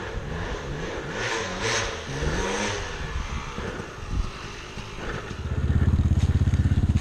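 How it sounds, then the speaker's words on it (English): A two-stroke motorcycle engine rises into a rapid buzzing rev near the end, loud and close, after a stretch of mixed engine and background noise. "that two-stroke noise."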